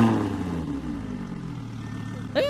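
Audi R8 engine in the Roblox driving game Driving Empire, a steady mid-pitched hum that slowly drops in pitch, then a sharp rising whine near the end as it revs again.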